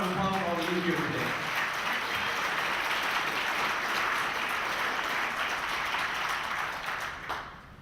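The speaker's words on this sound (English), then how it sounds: "So I just want to ask you to give a round of applause for all of you here today." Dense, sustained audience applause at a We Are Change San Antonio event with Architects & Engineers for 9/11 Truth, loud and steady for several seconds before tapering, with a voice briefly heard at the start.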